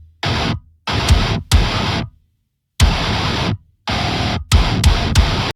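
Mixed MIDI metal guitars play dense, distorted chugging bursts, loud and tight, cut by abrupt silences in a stop-start rhythm.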